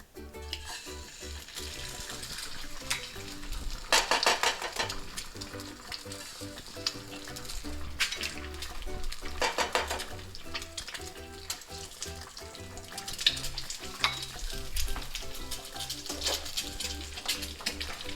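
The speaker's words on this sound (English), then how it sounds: "I'm gonna crack my eggs into the Gotham pan." Eggs fry in a Gotham Steel frying pan with a steady close sizzle, broken by a few brief louder crackles and light utensil sounds, with no talk.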